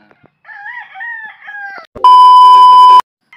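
A rooster crows once, a wavering cry, followed by a loud, steady electronic beep that cuts off abruptly.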